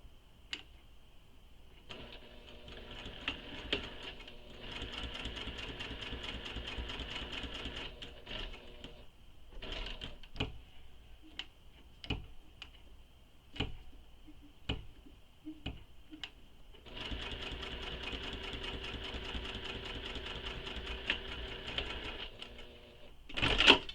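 Sewing machine top stitching the edge of a wallet: bursts of rapid mechanical whirring broken by pauses filled with isolated clicks and taps, close and fairly quiet.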